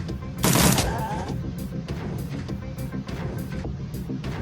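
Gunfire in the video game Shadowrun: Dragonfall, a loud close blast followed by a rapid string of repeated shots under game music.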